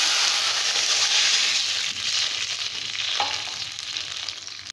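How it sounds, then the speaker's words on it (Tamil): Water boiling in a pan while making javvarasi payasam (sago kheer), a dense steady hissing bubble that holds loud and constant, then cuts off abruptly at the end. "இப்போ தண்ணி நல்லா கொதிக்க ஆரம்பிச்சிருச்சு"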